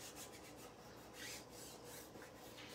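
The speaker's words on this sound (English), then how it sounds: "you give it a nice rub to make sure that it is on good" A self-adhesive stencil is rubbed down onto a surface, giving a soft, steady scratchy rasp with repeated strokes, faint and close, with no voices.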